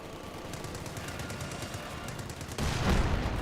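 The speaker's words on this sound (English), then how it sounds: "Got MG42 inside this garrison." MG42 machine gun fire from a garrisoned building in the WWII strategy game Company of Heroes 2: a steady, rapid stream of shots amid battle noise, swelling into a heavier, louder rumble near the end.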